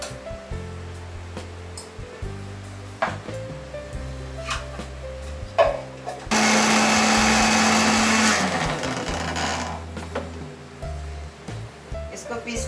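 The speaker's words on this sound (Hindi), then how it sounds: "इसको पीस लिया है मिक्सी में" A kitchen mixer grinder whirs loudly for about two seconds as it grinds ginger, garlic and green chillies in its jar. The grinding is heard between stretches of someone talking and kitchen clatter.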